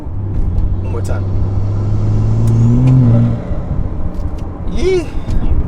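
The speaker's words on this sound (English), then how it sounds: "listen to how good this turbo spool sounds" A stage 2+ BMW 340i accelerating, the engine and turbo pulling in a rising, whining tone for about three seconds before the throttle lifts, heard from inside the car with a voice briefly near the end.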